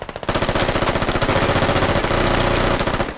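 Sustained automatic gunfire rattles in a fast, steady burst for about three seconds, loud and close, in the naval combat game Baltic Fury.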